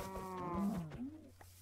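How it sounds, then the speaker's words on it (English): A possessed cow in Minecraft gives a single drawn-out, wavering moo of about a second, loud and close, with a bassy harmonic tone that rises and then falls before trailing off. "Oh, possessed cow!"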